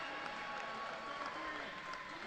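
Crowd cheering and applauding inside an indoor pool building during a swimming race final at national trials, a dense continuous roar with a commentator talking over it.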